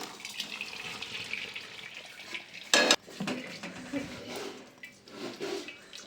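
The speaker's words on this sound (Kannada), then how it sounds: "ಒಂದು ತೂತು ಬಸಿಗೆ ಬಸಿತಾ ಇದ್ದೀನಿ." Boiled hot Korean noodles being drained through a perforated colander, with clattering metal and dish sounds, a brief loud burst of rushing water midway, then softer scraping and handling noises close by.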